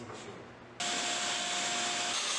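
A power drill suddenly whirs up after a quieter moment, drilling pocket holes in wood, and runs steadily at a high, even pitch until the end.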